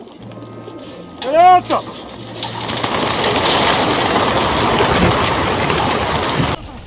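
Homing pigeons are released at a race in Fayoum. A short coo sounds first, then a loud, sustained rush of flapping wings. A voice speaks briefly over it.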